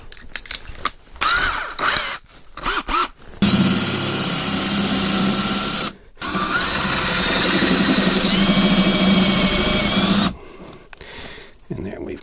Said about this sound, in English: We want a 3/16 drill bit.